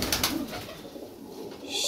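Domestic pigeons cooing in a home loft, a soft, low burbling coo repeating through the clip with some light rustling and chatter from other birds nearby.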